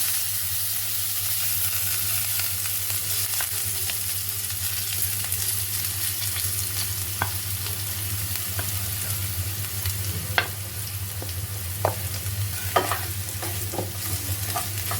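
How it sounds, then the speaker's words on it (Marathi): A potato and semolina cutlet mixture sautés in a pan with cumin, a steady close sizzle of frying with scattered scraping knocks from the spoon as it is stirred, and no voices. "आणि चांगलं परतून घेणार आहोत."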